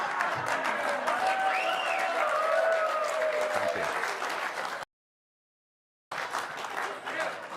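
A studio audience claps and cheers for a live talk show, a dense wash of applause that runs for several seconds, drops out abruptly into silence, then resumes.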